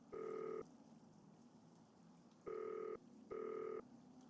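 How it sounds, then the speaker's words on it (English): Three bursts of dual-tone telephone keypad beeps from a phone being dialed in the video game Nancy Drew: Danger By Design, each tone held about half a second, spaced unevenly over a faint steady background hiss. "We gotta call in Manrique, which involves typing in 2 phone numbers"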